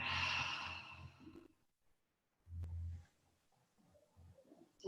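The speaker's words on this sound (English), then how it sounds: "Exhale." A long, breathy exhale opens the stretch and fades out quickly during a body rolling workout. It is followed by a quiet pause, a soft low thump, and faint, scattered rustling movements nearby.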